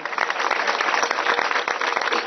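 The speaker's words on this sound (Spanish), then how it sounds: "Un aplauso fuerte para ellos" Demonstrators at a May Day march in Algeciras applaud police escorts, a dense, steady wash of clapping from a crowd filling the whole moment without pause.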